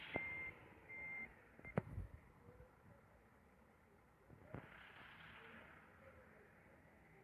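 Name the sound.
truck reversing beeps while turning the truck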